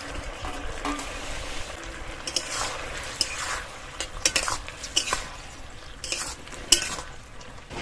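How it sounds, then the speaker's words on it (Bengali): Fried shrimp are stirred into simmering chili sauce in a pan, with a soft bubbling bed, repeated spatula scrapes and sharp metallic clinks up close. "এর মধ্যে ভেজে রাখা চিংড়ি মাছগুলো দিয়ে দেবো।"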